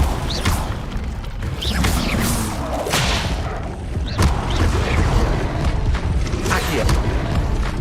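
Spells flare in Hogwarts Legacy on Xbox as an Incendio fire spell is cast, producing busy game effects of whooshes, thuds and crackling bursts, with sharp hits near 0.5, 3 and 4.2 seconds over a constant rumbling bed.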